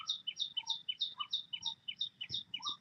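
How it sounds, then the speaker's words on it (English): Birds call outdoors in a live nature observation setting, a quick repeating run of high chirps and tweets with a few lower notes, steady and moderately clear with no talk. "you have to listen to the bird sound"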